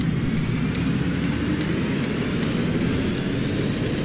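Steady, loud engine drone of a Mercedes-Benz Citaro city bus in the OMSI 2 bus simulator with a sound pack, a continuous broadband roar holding level with no pauses.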